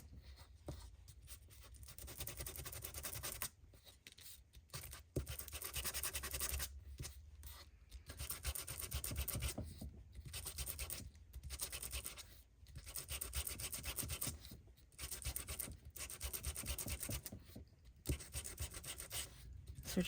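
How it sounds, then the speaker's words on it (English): Paper card being sanded by hand for a vintage shaker card craft, producing repeated bursts of close, raspy rubbing strokes separated by short pauses, steady and fairly quiet. "So we're just going to sand this down"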